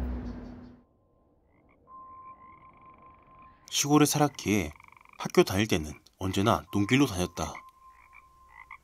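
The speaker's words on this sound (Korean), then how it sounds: "개구리 울음소리를 들으며 논길을 걷고 있었다" Frogs croak in rhythmic bursts from rice paddies while a person speaks over them, with a faint tonal hum in the background.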